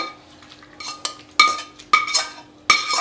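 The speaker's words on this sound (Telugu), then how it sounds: "వేగిందంతా ఈ పెరుగన్నంలోకి వేసేస్తానే" Fried tempering is scraped from a metal pan into curd rice, heard as a series of sharp metallic clinks and scrapes of a spoon against the pan, close by and alone.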